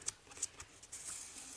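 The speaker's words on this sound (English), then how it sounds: "my big Tim Holtz scissors because it didn't want to tear" Large Tim Holtz scissors snip through tissue paper in a few quick, crisp cuts, close and fairly quiet, with no talking.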